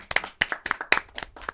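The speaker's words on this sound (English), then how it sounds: "Round of applause." A short round of applause from a small group, with distinct uneven clusters of claps rising and falling, fairly close and without talk.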